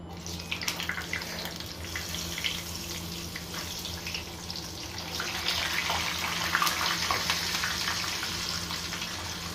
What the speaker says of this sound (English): on the same oil we will now fry some potatoes